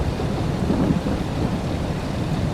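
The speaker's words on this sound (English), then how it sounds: "Wow, look at the storm cloud just rolling through." Thunderstorm in the farming game Farming Simulator 22 on a Missouri farm: a low rolling thunder rumble blended with steady rain, continuous and fairly loud throughout, with no talking.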